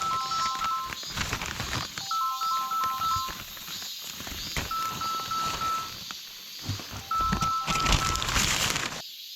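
A mobile phone rings with an incoming call during a mushroom-foraging hike on a forested mountain: a short electronic beeping melody repeats four times over rustling, crinkling movement nearby.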